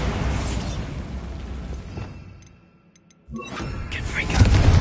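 A Bombarda spell blast in Hogwarts Legacy, a loud booming explosion that rumbles and fades into near silence before debris and magic effects crash back in close.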